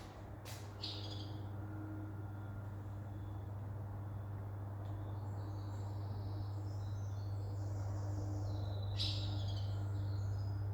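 Bird calls, squawky chirps heard faint and fairly distant, come in a few scattered bursts over a steady low engine hum inside a truck cab.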